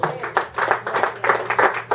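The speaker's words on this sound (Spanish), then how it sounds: "¿Cuántos pueden dar un aplauso al Cordero de Dios?" A church congregation claps in praise of the Lamb of God, rhythmic group clapping in pulsing waves, moderately loud and fairly close, with some voices mixed in under it.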